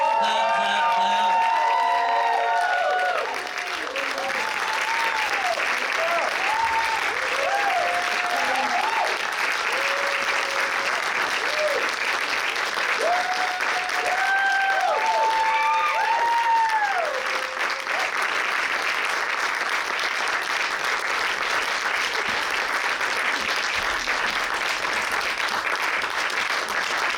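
A standing audience at a poetry celebration applauds poet Amanda Johnston with sustained loud clapping, cheers and whoops rising over the hands, holding strong for nearly half a minute.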